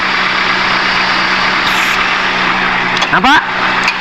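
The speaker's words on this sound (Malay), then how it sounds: "Saya cabut dia akan drop ini enjin." A Proton Wira car engine idles steadily with a low hum, then falters briefly as the air-conditioning part is unplugged and the RPM drops, while someone talks over it.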